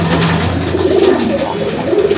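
A pair of racer pigeons, a red checker male and a mealy female, coo close by in low, throaty rolling phrases that repeat over a steady background.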